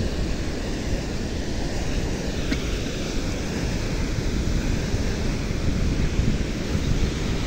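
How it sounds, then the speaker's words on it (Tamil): Rough sea surf pounds the shore at Thalaiyadi on a stormy, overcast day, a steady, loud roar of breaking waves mixed with heavy wind buffeting the microphone throughout, with no speech. "கடல் சரியாக அடிக்குது."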